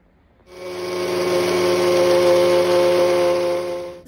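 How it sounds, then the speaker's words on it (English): An electric blender grinds banana milkshake ingredients in one steady, loud, continuous whir that starts abruptly and holds for a few seconds, with no talking. "This is how it looks after grinding."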